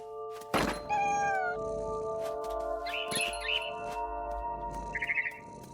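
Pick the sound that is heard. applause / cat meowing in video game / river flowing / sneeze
cat meowing in video game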